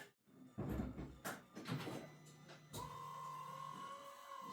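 Windshield wiper on a Polaris General side-by-side cycling after installation, a few clunks and mechanical knocks followed by a steady motor whine with a sweeping tone, close and fairly quiet.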